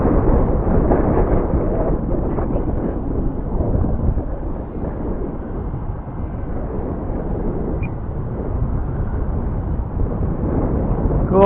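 Strong wind buffeting an outdoor microphone while a Skyhunter Mini model plane is flown: continuous, loud, rumbling low roar with gusty fluctuations and no clear pauses.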